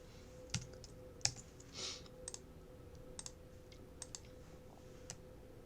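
Computer mouse clicks while setting up a custom card size for a wedding invitation, a scatter of faint, sharp single clicks spread across a quiet background.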